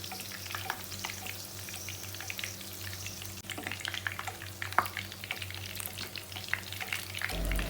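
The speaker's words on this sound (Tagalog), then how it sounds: "Then mag-i-scoop lang tayo ng oil at ilalagay natin sa ibabaw" Stuffed crab shell frying in hot oil while oil is spooned over the top, a steady crackling sizzle with scattered pops and small clinks, moderately quiet and continuous with no talk.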